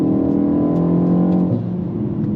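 An updated BMW M135i xDrive engine revs high and steady, then drops off, with faint crackling pops from the exhaust as it settles, close and loud.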